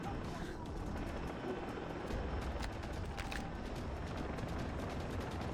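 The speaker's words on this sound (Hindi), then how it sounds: "ओ भाई हेलीकॉप्टर भी लेके आ गए ये लोग तो।" A helicopter's steady rotor thrum in the video game Far Cry 3 drones on throughout, with a faint mechanical clatter and a voice speaking over it.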